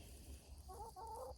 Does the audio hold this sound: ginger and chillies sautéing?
no